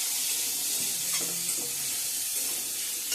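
Crab curry being stirred in a pot after turmeric and salt go in, a soft sizzle with a few quiet scrapes of the spoon mixing the pieces.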